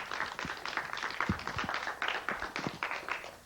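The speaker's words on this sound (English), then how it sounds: "let's give Griffin a big round of applause for that one" A studio audience at a kids' talk television show gives scattered, quick hand claps at a low level, the sharp pops overlapping in a loose, uneven rhythm.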